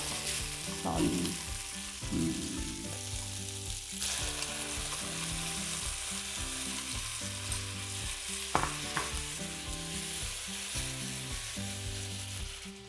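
Chicken and onion frying in a pan, with broth and sauce going in for a chicken and egg rice bowl; a steady soft sizzle runs throughout, broken by occasional scraping stirs from a utensil.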